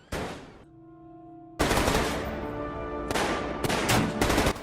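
A gunfire sound effect is heard: one loud shot with a ringing tail, then rapid, close bursts of repeated shots and echoing blasts.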